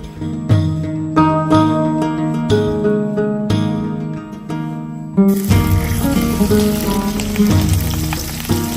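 Hilsa fish fries in Dabur mustard oil with a loud, dense sizzle and spatter that bursts in about halfway through, after a stretch of music.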